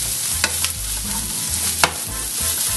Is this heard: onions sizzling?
yes